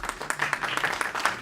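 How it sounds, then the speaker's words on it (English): A small audience at a political candidates' Q&A gives a brief round of applause for candidate Mike Freer, a short burst of scattered, moderately faint clapping. "Mike Freer, I think, round of applause for Mike"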